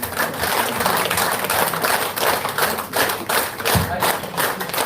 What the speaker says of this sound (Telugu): వీటిని చప్పట్లు అంటారు.